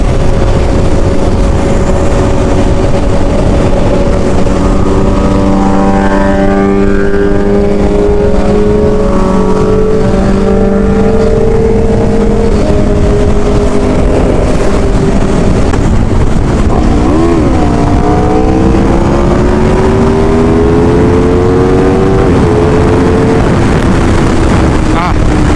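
An Aprilia RSV4 1100 Factory motorcycle with a V4 engine roars loudly while being ridden, its pitch climbing and dropping through gear changes, with heavy wind buffeting the microphone throughout.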